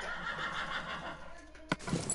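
A horse in the Minecraft video game neighs once, a short bright whinny near the end, following quiet background sounds and faint clip-clop.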